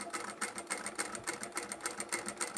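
A sewing machine stitches the side seam of a fabric Japanese rice bag with a fast, even, close mechanical whir and steady rhythmic needle pulses, running alone without talk.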